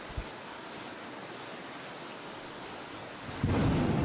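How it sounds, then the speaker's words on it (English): Steady rain pours in a rainy garage-mechanic video game world, a constant hiss throughout with a soft low rumble of thunder swelling near the end, no voices. "it's raining again. It's been raining non-stop in this game."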